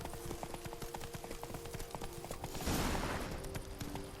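Hooves of Roach, the horse in The Witcher 3, clip-clopping in a steady trotting rhythm up close, with a wash of broad noise swelling in the second half.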